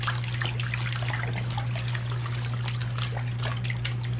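Missouri River water trickling and flowing close by, a steady splashing babble with a constant low hum beneath, no voices.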